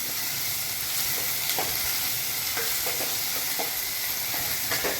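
Onions for urundai kuzhambu sauté in a pan with a constant close sizzle and hiss, broken by intermittent spatula scrapes and stirring clacks, with no one speaking.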